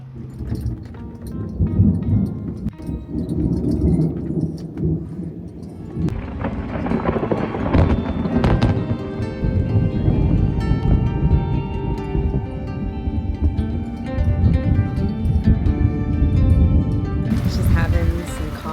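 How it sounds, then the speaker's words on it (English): A thunderstorm with thunder over Fakarava in French Polynesia, heard from a sailboat: deep rumbling thunder rolls on and off beneath falling rain, with people talking over it. "And this thunder and lightning is absolutely insane, but it is so scary."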